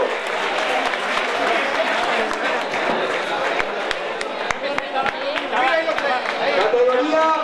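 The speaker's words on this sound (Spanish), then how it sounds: "¡Fuerte aplauso!" Crowd applause at a race awards ceremony for a town mile and half marathon, with sustained clapping under cheering voices and chatter.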